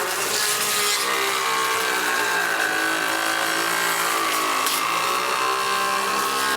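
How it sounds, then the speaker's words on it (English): A hickory axe handle blank fed through a wood planer, giving a steady, loud, harsh cutting whine that holds constant for the whole stretch without pauses. "we're going to see if we can actually run it through the planer as is"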